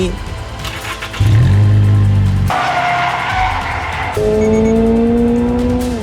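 A Subaru BRZ 2.4 sports car with a six-speed automatic revs hard with rising and falling pitch, accompanied by loud tire squeals, close and continuous for several seconds.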